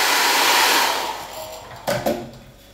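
A hair dryer blows steadily over a wet watercolour landscape painting, loud at first and then fading as it moves away or powers down, followed by two short knocks near the end.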